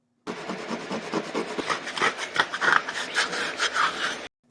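A fingernail scratches and roughs up the surface of a coaster, making a close, dry rasping scrape in quick, uneven strokes.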